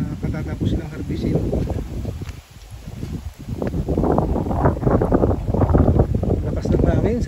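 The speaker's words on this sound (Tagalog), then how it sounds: "Lakas ng hangin, sariwang hangin" Strong wind blowing past rice fields, a heavy low rumbling buffet across the microphone that surges and dips, with a voice talking under the gusts.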